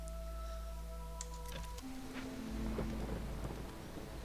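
Storm ambience in the video game Against the Storm: a low rumble of thunder and a wash of rain. Earlier there are steady tonal hums that cut off partway through, and the rain noise continues alone.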